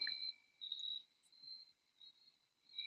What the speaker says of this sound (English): Maybe it'd shut up the fucking crickets, which are obnoxious.